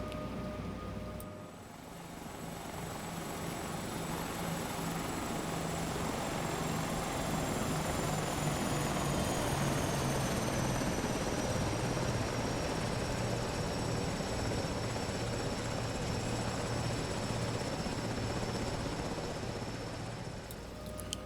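A steady helicopter rotor drone from an SH-2 SeaSprite in a flight simulator game holds for the whole stretch, with a constant engine whine and a slight dip in level near the start.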